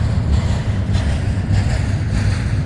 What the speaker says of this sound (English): listen for the train throttling up too